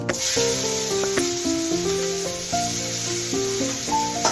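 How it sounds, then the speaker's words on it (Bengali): Whole cumin and chopped onions sizzle in hot oil as a constant bright hiss. A melodic tune plays over it throughout. "এই তেলের মধ্যেই আমি প্রথমে আগে একটু জিরে দিয়ে দেবো গোটা জিরে ফোড়নে তারপরে আমি দিয়ে দেবো কেটে রাখা কিছু পেঁয়াজ কুচি"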